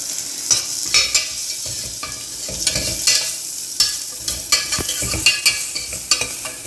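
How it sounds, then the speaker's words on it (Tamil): Ground pepper, cumin and coriander sautéing in a pan, a close steady sizzle broken by repeated scraping strokes of a spatula stirring the spices. "மிளகு ஜீரகம் மல்லி எல்லாம் பொடிச்சு வச்சுருக்கோம்ல குறகுறப்பாக அதையும் சேர்த்து ஒரு வதக்கு வதக்கிடலாம்"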